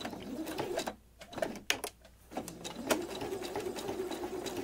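A sewing machine back-tacking a seam in scrap fabric, running in fast whirring bursts with short pauses between them and a few clicks as the direction changes.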